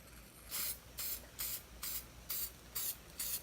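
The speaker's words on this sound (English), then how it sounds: "Here we got the Marsh ink in black. So I'm going to spray this a couple ways." Marsh stencil ink in black sprays from a can in seven short, evenly spaced hissing bursts, each about a quarter second long and close by, with no talking.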